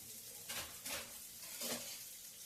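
Finely chopped onions frying with cumin seeds in a pan, a faint steady sizzle with a few soft scraping stirs, close by and without talk.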